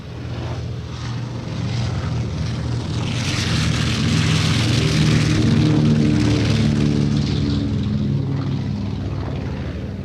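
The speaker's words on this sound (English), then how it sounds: "His B-25 takeoff time, now on takeoff roll" A B-25 bomber roars on its takeoff roll at an airshow, its propeller engines a loud, sustained drone that swells and then holds steady, heard alone at moderate distance.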